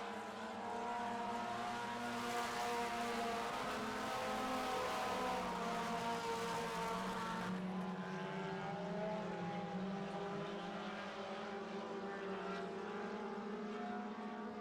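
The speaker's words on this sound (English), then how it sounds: "You don't often see 2 cars go by Doug Kraus in 1 lap" 4 cylinder stock cars racing on an oval track at a heat race, a continuous roar of engines passing and fading across the clip with no breaks.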